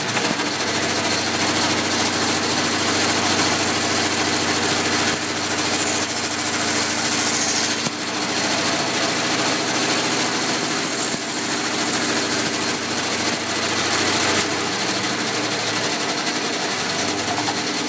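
A power saw in a school woodshop runs loud and continuous as it cuts a piece of wood, a steady motor drone with a brief dip partway through.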